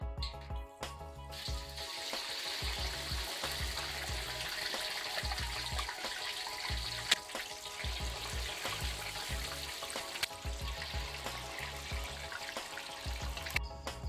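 Tofu deep-frying in plenty of very hot oil over high heat, a dense steady crackling sizzle with bubbling that runs continuously and loud from start to finish, with no voices.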